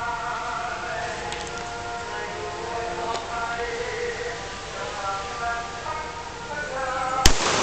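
An Uzi Eagle 9mm handgun fires a single sharp, loud shot near the end, preceded by a stretch of outdoor background noise with people talking.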